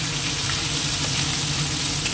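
Whole fish heads frying in hot oil spiced with cumin, giving a steady, close sizzle that holds even and loud from start to finish, with no voices over it.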